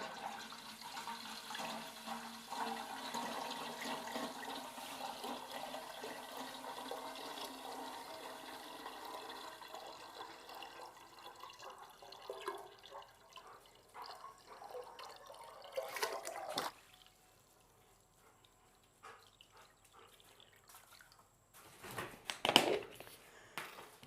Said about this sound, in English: let me get the water hose and we'll get some water inside of the watering can here.